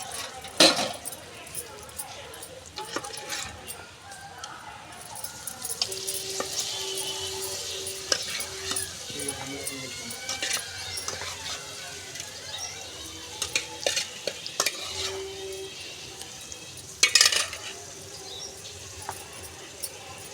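Small fish pieces fry in a pan while being stirred, with soft sizzling, scattered metallic scrapes and clinks, and brief bursts of louder hiss; a low hum and faint background noise sit underneath throughout.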